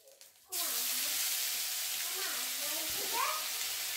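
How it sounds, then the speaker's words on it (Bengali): Spice paste for vegetarian broccoli curry dropped into hot oil, where cumin seeds and bay leaves have been fried, sets off a sudden loud, steady sizzle that carries on close up. "এবার দিয়ে দেবো মশলাটা।"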